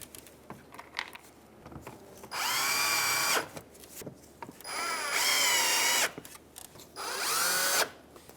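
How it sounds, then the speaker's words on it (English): A power drill drives Phillips screws into a bumper grille on a 2015-2019 Hyundai Sonata, with three close, loud whirring bursts of about a second each and quiet handling noises in between. "we're going to put in our 4 Phillips screws."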